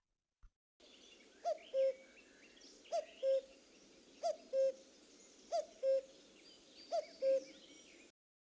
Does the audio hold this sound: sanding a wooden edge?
no